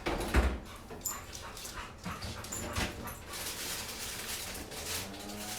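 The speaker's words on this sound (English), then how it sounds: "Oh my god, dogs." A dog whimpers and gives a few yips amid a steady noisy background, at moderate distance.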